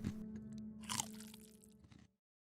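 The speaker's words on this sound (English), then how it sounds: "He picks up one of Salad's fingers and bites down, causing a disturbingly crunchy yet fleshy sound." A crunchy yet fleshy bite into a finger, a cartoon sound effect: one loud crunch and squish near the start, a second sharp crunch about a second in, then chewing that stops abruptly.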